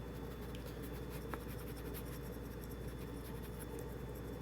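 An eraser rubs quietly over writing in soft, scratchy back-and-forth strokes, faint and steady with no voices.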